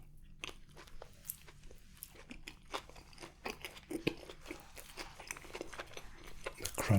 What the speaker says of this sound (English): Crunch of the lettuce.